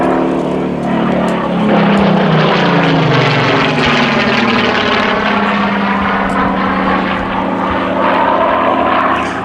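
A Supermarine Spitfire PR.19, the unarmed reconnaissance version, flies past at an air festival, its loud propeller engine roaring close overhead and sweeping in pitch as it passes, with no talking.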